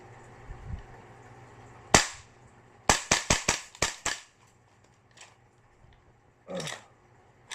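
A Tokyo Marui MTR16 Gold airsoft rifle snaps off a sharp single shot, then a quick burst of about six crisp cracks, followed by scattered softer clicks and a final shot.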